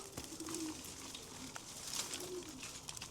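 Racing pigeons coo softly inside an old allotment shed, a few low repeated burbling calls over a quiet background with faint rustling.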